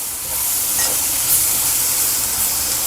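Brinjal rice (vangi bath) is stirred as it fries in a pan, giving a steady, close sizzling hiss with soft scraping underneath. No one speaks.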